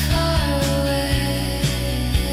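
AI-generated shoegaze song made with Suno V5: dense, washed-out wall of distorted guitar and drone with a steady thumping drum beat, loud and continuous with no voice.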